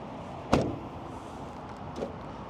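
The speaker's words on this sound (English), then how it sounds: "a factory fob here, which works to lock and unlock the doors." The door locks of a 1997 Toyota Corolla Spacio clunk as the key fob is used, one sharp mechanical thunk followed about a second and a half later by a softer second click, close by in a quiet setting.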